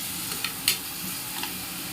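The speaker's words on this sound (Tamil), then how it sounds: "இப்போ இதை நல்லா கொஞ்சம் வதக்கிக்கலாம்." Onions sizzle steadily in a hot pan for Tamil drumstick-leaf (murungai keerai) soup, a constant frying hiss broken by a few soft stirring scrapes.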